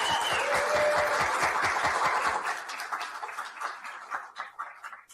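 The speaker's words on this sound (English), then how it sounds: "You've gotten the applause out of your system" An audience at a candidates forum for California's 11th congressional district applauds loudly and continuously for about two seconds, then the clapping thins out into scattered claps.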